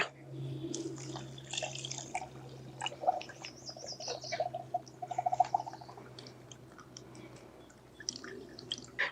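Water poured into a tube packed with gravel trickles and drips as it drains through, a quiet, uneven gurgling with scattered small splashes over a low background hum.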